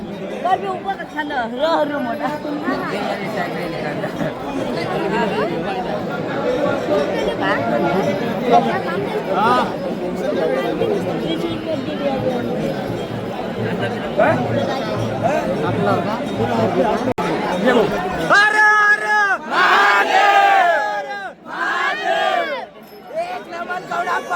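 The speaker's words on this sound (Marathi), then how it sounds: "खूप गर्दी आहे भाऊ." A large, dense crowd packs a Shiv temple on Mahashivratri, a loud, steady babble of many voices throughout, with sharper shouted chants and cries rising near the end.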